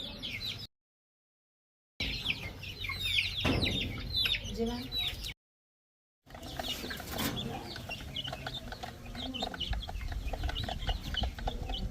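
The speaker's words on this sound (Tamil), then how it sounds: "அப்படியே அந்த பிரோயிலர் கோழி குஞ்சையும் பார்ப்போம்" Broiler chicks clucking and peeping at a home in Jaffna, busy overlapping bird calls with some louder crowing-like cries, close by, broken by two short silent gaps, with a voice speaking now and then.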